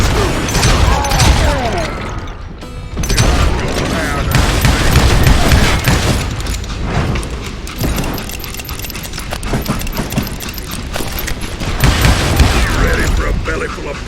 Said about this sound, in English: Bullets were flying at me from every which way